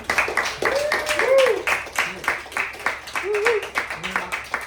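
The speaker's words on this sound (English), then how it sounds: "A round of applause for everybody." Audience at a film festival Q&A session with filmmakers in New York claps in an irregular patter of hand claps, with voices talking and calling out over it throughout.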